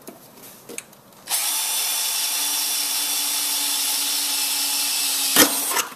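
A power drill bores air holes, starting after a moment of quiet handling noise and then running as a steady, loud whine for several seconds before a brief clunk.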